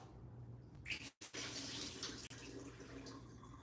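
Tap water runs steadily over diced potatoes in a kitchen, a soft continuous hiss and splash with one brief break partway through.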